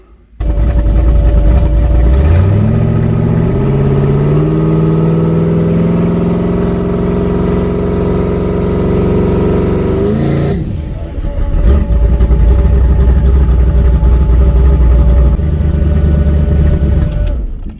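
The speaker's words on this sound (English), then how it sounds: "And now I'm going to see if I can build any boost on the trans brake." Turbocharged drag car with bigger turbos, same tune and carburettor, revving hard on the trans brake, a loud steady engine roar that climbs in pitch, drops briefly near the middle, then holds again, close up with no talk.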